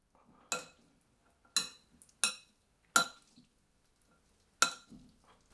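A spoon clinks against a bowl while potato salad with vegetables is stirred, five separate sharp taps spaced unevenly across a quiet background.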